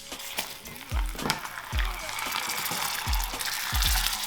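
Salted butter hits hot amber caramelized sugar in a pan, sizzling and hissing steadily with a few soft thumps of the pan, loud and close.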